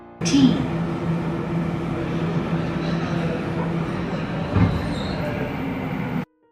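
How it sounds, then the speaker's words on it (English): A Japanese subway train rumbles steadily as it pulls away, with a brief metallic squeal partway through, loud and close from inside the car. "As the train departs"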